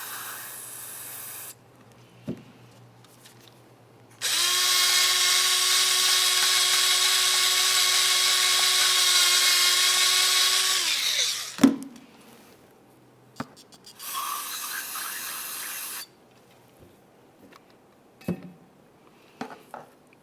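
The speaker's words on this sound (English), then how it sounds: "clean it out with a bore brush to remove any miscellaneous debris" A bore brush scrubs the slider ports of a brake caliper bracket from a 2005-2010 Dodge Dakota front brake job, with bursts of harsh scraping and a long sustained whirring hiss, then shorter rough strokes and sharp clicks, close and fairly loud.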